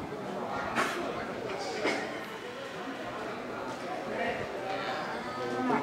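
Cows, including black-and-white male dairy-breed cattle, low repeatedly at moderate distance amid a herd's ambient noise at an Indonesian cattle market, while people converse nearby.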